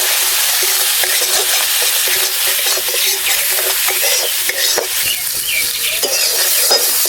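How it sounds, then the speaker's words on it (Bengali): Spice masala of cumin, coriander and chili powder with salt frying for duck egg curry, a loud continuous sizzle with repeated scraping stirs against the pan, close up and with no talk. "এবারে মশলাটা ভালোভাবে কষিয়ে নেব।"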